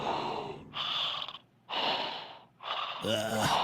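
Heavy breathing on a late-night radio call-in line, slow gasping inhales and exhales in three or four long bursts separated by short silences, close and fairly loud with faint line noise.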